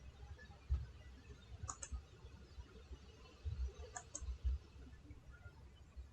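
Computer mouse clicks while a document's bulleted list drop-down is being used, a few sharp, faint, close clicks spaced several seconds apart over quiet room tone, no talking.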